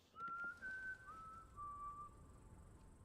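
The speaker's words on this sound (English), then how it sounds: "we'll once again hear that Hunger Games whistle one final time." A three-note whistled melody from the Hunger Games plays in Old School RuneScape, clear and fairly loud over faint background hiss.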